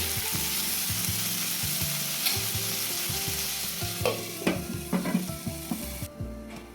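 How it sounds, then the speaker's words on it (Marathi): Hot oil tempering sizzles and crackles over green tomato dal, a steady frying hiss with sharp spattering pops and stirring clatter that grow busier toward the end before cutting off abruptly. "तर आपण आता फोडणी दिलेलं आहे भाजीला"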